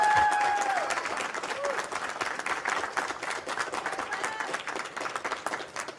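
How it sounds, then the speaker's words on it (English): A round of applause with some cheering rises for the runner-up at the final table of a poker main event in the Bahamas, starting strong and settling into moderate steady clapping, with a few brief tones near the start. "let's get a quick round of applause for our runner-up"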